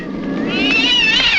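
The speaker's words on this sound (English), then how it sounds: "leave that cat alone" Close, loud cat meow, one drawn-out wavering yowl with rising pitch that lasts the whole moment, heard alone.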